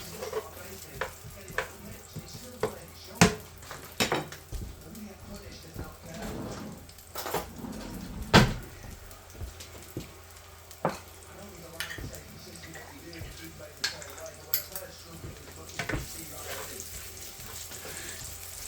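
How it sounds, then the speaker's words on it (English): Onions sizzle steadily in hot oil in a pan while cooking a homemade spaghetti bolognese, with frequent clicks and scrapes from stirring cutting through the close, continuous frying hiss. "Let's put the onions in."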